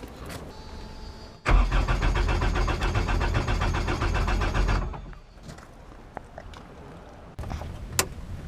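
A diesel engine, serviced by a Cummins dealer, cranks in a steady rapid rhythm for about three seconds without catching, loud and close, then stops, leaving quieter handling noises and a few clicks.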